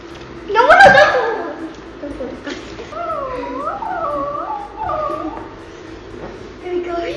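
A chihuahua puppy whimpers and yips in high, wavering cries that rise and fall like a short howl, with a louder burst near the start and people talking softly alongside.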